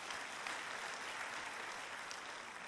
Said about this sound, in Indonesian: Beri tepuk tangan itu buat Tuhan.